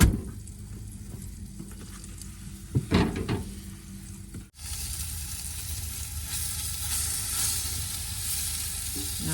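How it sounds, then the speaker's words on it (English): Tofu fries in avocado oil in a van kitchen, a steady close sizzle with a few clattering knocks as pieces are turned, then the frying hiss grows louder and continuous. "Now we're just turning over the tofu."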